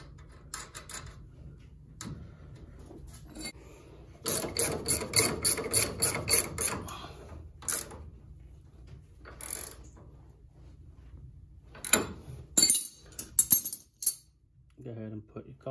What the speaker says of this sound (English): Then we can go ahead and put our crown nut back on.